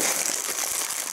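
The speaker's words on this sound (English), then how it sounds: "Crinkle, crinkle." Plastic thrift bag crinkling up close, a steady dense rustle with no voices.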